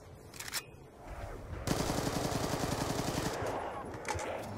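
Rapid automatic gunfire in the Call of Duty Zombies Origins map rattles out in a steady burst of closely spaced shots for about two seconds, loud and close, following a few quieter sounds at the start.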